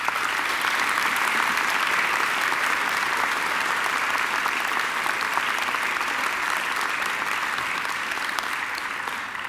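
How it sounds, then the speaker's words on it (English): A university graduation ceremony audience gives a singer a long, sustained round of applause, a dense, even wash of clapping from a large crowd that holds steady and eases slightly at the end. "I think she deserves another great round of applause"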